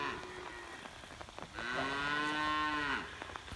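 A cow in a big rain-soaked pasture gives one clear, drawn-out moo lasting about a second and a half, close by over a soft background of rain and light rustling.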